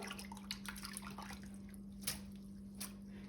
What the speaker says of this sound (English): now I'm going to get my hands wet